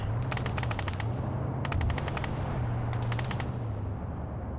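Three short bursts of automatic machine gun fire in a Call of Duty match, crisp rapid rattles rising over a steady engine-like drone, evenly spaced and moderately distant.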